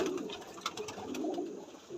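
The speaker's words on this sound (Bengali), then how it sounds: "দেখুন পায়রাটা দেখতে পাচ্ছেন" High-flying breed pigeons coo softly and steadily indoors in a loft, their low burbling calls overlapping for two seconds with no talking.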